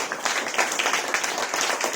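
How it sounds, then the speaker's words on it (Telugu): An audience at a church sermon claps loudly in a steady burst of applause, close and continuous throughout. "కొట్టు చప్పట్ల గట్టిగా"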